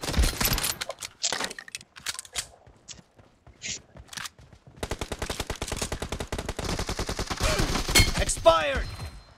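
Gunfire in the mobile battle game PUBG Mobile: scattered single shots and short bursts, then a long rapid stream of automatic fire, loud and close with a few brief gaps.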